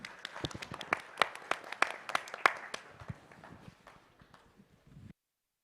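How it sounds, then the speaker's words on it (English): Conference audience claps for panelists at an oceans law and policy event, a burst of many hands that starts strong with sharp individual claps, thins out and fades to a few scattered claps before stopping. "please join me in a round of applause for our panelists"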